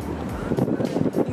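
Wind gusting across a high rooftop near the Flatiron in New York, a loud rushing buffet pounding the microphone in uneven surges, close and rough.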